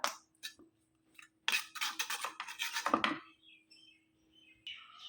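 Aluminium and steel vessels are scrubbed with sour dosa batter mixed with soap, giving close scratchy rubbing bursts and light metallic clinks separated by quiet gaps.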